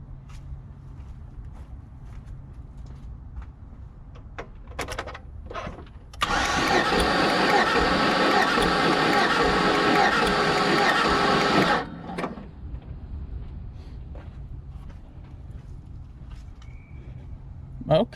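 An engine cranks steadily for about six seconds on the starter during a cylinder 1 compression test, a loud, even whirring burst with quiet clicks and handling noises before and after.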